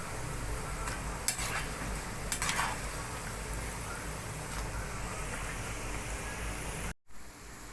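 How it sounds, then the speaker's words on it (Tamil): Carrot and vegetable pakoda deep-frying in hot oil give a steady, close crackling sizzle with a couple of sharp pops and stirring clinks, then a brief drop to near silence near the end. "இது பொன்னிறம் ஆகிற வரையும் பொரிக்கணும்"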